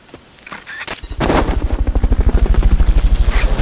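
A military helicopter in Metal Gear Solid Peace Walker thumps in with fast, steady rotor beats that grow loud and close after a brief clattering start, running continuously to the end.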